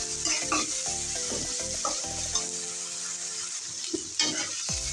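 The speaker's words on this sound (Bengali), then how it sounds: "এখন পেঁয়াজ দিয়ে কাঁচামরিচটা আমি ভালো করে তেলের সাথে ভেজে নেব।" Chopped onion and green chili frying in hot oil in a pan, a continuous loud sizzle broken by repeated scraping stir strokes with a spatula, close by and with no voices.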